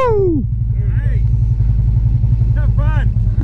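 A Harley-Davidson Road Glide idling with a deep, steady, loud rumble while people talk and call out over it, the engine holding a low throbbing beat throughout.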